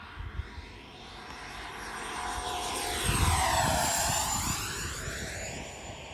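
An FMS Integral 80mm electric ducted-fan RC jet makes a low pass at full throttle, its whine swelling as it approaches, peaking overhead with a Doppler sweep and then fading away, alone without talk.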